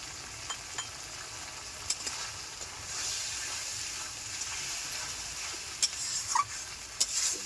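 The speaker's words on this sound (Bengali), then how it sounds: "ভালো করে কষিয়ে নিলাম মশলাটা।" Spice masala for a sweetened potato curry (aloo dum) being sautéed in a pan, a steady soft sizzle with occasional stirring scrapes and small pops, fairly quiet and close, with no talking.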